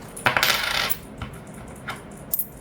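Loose coins are handled and dropped, with a loud cascading jingle up front and then scattered, fainter clinks and taps of individual coins settling, heard up close with no talking.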